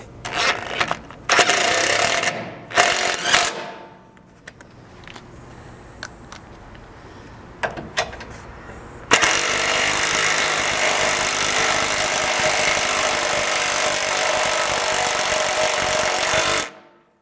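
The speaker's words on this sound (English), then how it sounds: "go ahead and install the self-threading 3/8 bolts provided in your bolt bag" A power tool drives self-threading 3/8 bolts into a skid mount on a third-generation 4Runner: short whirring bursts and clanks come first, then a long, loud, steady grinding run that cuts off at the end.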